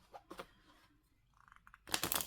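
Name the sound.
shuffling small stiff oracle cards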